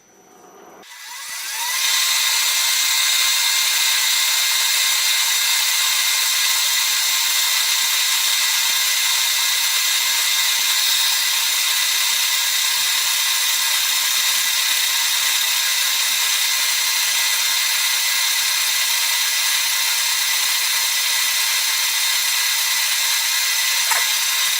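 A South Bend 13-inch lathe takes a 40-thousandths cut off a bushing, a steady, loud high-pitched whine of machining that starts after a brief quiet moment and continues evenly throughout with no talking.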